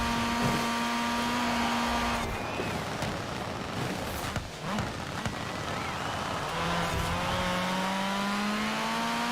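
1990 Nissan Pulsar GTI-R engine in Forza Horizon 4 on a fast race track, a loud, steady drone at high revs that dips briefly at a shift, then climbs again.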